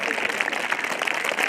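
Sustained applause from the audience at a school annual function, a steady dense patter of many hands clapping with no break.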